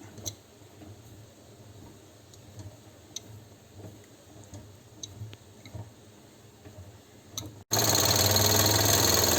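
A Mamod TE1A model steam engine starting, with a faint irregular ticking as the flywheel turns, then a sudden loud, steady hiss of steam that fills the final couple of seconds.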